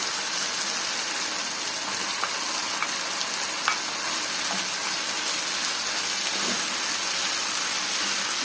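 Onions sizzle in a hot pan alongside chicken pieces for a chicken fajita pasta, a steady broadband frying hiss running throughout with a few faint clicks of stirring, close and unbroken by speech.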